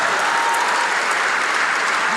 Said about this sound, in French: Applaudissez pour le Seigneur et poussez des cris de joie